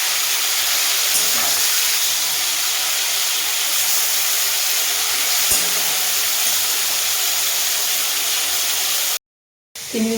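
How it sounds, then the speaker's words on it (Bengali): Prawns coated in salt and turmeric fry lightly in mustard oil, giving a loud, steady sizzling hiss throughout that cuts off briefly near the end. "এই দেখো চিংড়ি মাছগুলোকে নুন হলুদ মাখিয়ে নিয়েছি, জাস্ট হালকা করে ভেজে নেব।"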